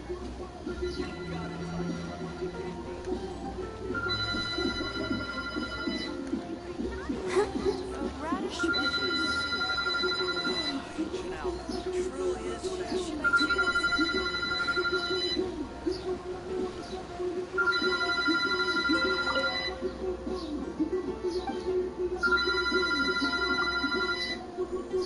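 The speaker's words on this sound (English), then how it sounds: "another phone begins to ring." An in-game telephone rings in Genshin Impact, repeating in regular bursts of bright electronic trills with short gaps, steady and fairly loud over a low ambient background.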